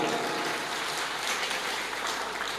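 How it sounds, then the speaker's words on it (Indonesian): Audience applause for Nahdlatul Ulama, a short, steady patter of clapping from a crowd, fairly faint and even throughout. "Tepuk tangan untuk Nahdlatul Ulama."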